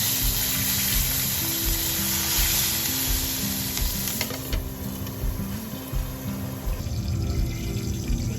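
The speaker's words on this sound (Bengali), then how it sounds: "তেলের মধ্যেই দিয়ে দিলাম কালো জিরা, তেজপাতা, কাঁচা লঙ্কা। দিয়ে দিচ্ছি বেগুন।" Eggplant frying in hot oil with black cumin, bay leaf and green chilli makes a loud, continuous sizzle, with a low hum beneath it and a few light clinks from the pan.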